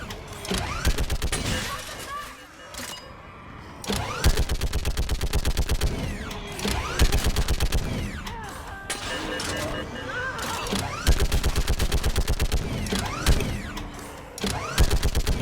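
Gunfire in the video game Mass Effect 3, repeated loud rapid automatic bursts separated by short pauses, with other shots and game voices mixed in.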